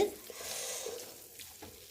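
Chicken tikka masala gravy with garam masala is stirred in a pan over heat, a soft continuous sizzle with faint scraping of the spoon, fairly quiet and close.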